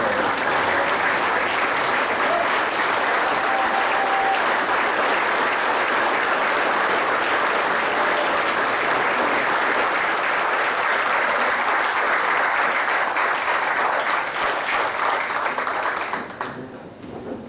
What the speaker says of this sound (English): We want the applause.